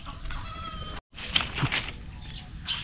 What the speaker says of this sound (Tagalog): maingay yung manok dito.